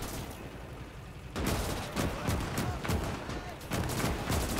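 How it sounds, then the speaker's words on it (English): Rapid bursts of 30mm autocannon and machine gun fire from German light armor in Gates of Hell: Ostfront crackle in quick repeated volleys, louder after the first second, over a steady battlefield din. "I believe that's a 30mm cannon it's got, as well as an MG."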